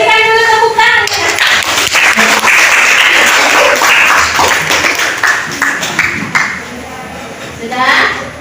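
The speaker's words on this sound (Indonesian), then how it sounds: "Berikan dulu tepuk tangan." Students applauding in a classroom, a burst of close, dense clapping that fades out gradually, with voices heard over it.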